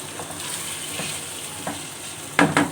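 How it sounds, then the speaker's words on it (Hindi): Potatoes and brinjal being stirred in a curry pan, with a steady low sizzle underneath and a few soft scrapes before two louder stirring clatters near the end. "आलू ऐड कर देंगे और अच्छी तरह से मिक्स कर लेंगे।"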